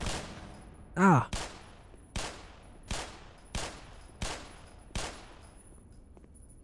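Gunfire in the Black Mesa first-person shooter game: six sharp shots spaced roughly a second apart, each with a short decaying tail, near and loud, with a brief exclamation from a player.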